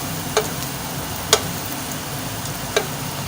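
An egg frying in a pan on its second side gives a steady, soft sizzle throughout, broken by three brief sharp crackles or pops, with no talking.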